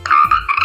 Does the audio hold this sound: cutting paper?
no